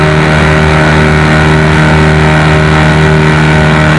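Steady, loud engine drone from a John Deere 435 tractor at a tractor pull, running hard with constant harmonics across the full four seconds, no voices over it.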